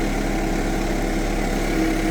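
Engine of a vehicle crawling slowly in low gear while hauling 8-foot 6x6 timbers through woods, a loud, steady droning hum with no change in pace, close and continuous.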